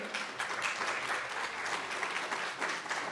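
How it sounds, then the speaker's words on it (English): Neighborhood summit audience clapping for workshop presenters, a fairly quiet, continuous patter of many hands applauding in a room, steady from start to finish. "Come on, clap it up for them."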